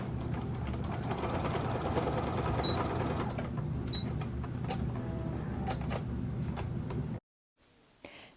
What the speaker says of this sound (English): I'm just going to put a few stitches in, even though you're not really going to see this